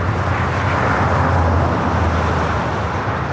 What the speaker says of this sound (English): Our next arrival is United Airlines 1221, a 757-300 coming in from Honolulu.